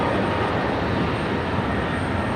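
Airbus A220 jet at Brisbane Airport at night, a broad steady engine roar that stays loud and even throughout, with no talk over it.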